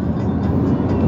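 An MRS freight train hauled by a C44i locomotive passing close by, a steady loud low rumble of wagons rolling on the rails.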